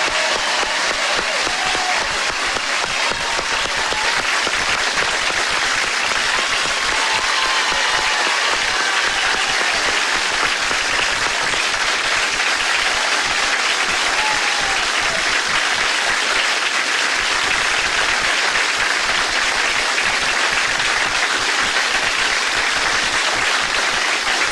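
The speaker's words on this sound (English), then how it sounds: "that applause, of course, was well met" A studio audience applauds in a loud, continuous wash for Olympic gold medal ice dancers Jayne Torvill and Christopher Dean on a television talk show. The clapping stays dense and unbroken throughout.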